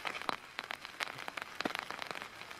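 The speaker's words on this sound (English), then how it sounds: "Wait, is it raining?" Rain falling in a light, irregular patter of soft close taps and crackles, sustained and fairly faint, with no voices over it.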